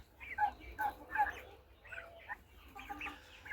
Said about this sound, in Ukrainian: Індичата. Індичатам ще немає два місяці.